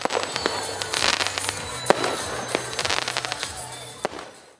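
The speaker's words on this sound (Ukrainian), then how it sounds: "Завершилася урочиста програма святковим салютом." A festive New Year fireworks salute crackles and bangs continuously, with many sharp pops and a few louder reports over a dense rumble, fairly distant.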